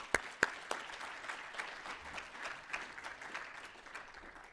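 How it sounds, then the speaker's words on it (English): An audience at an educator-of-the-year awards banquet gives a round of applause, steady clapping that runs throughout and eases off slightly toward the end, with a couple of sharp louder claps near the start. "let's give him another round of applause"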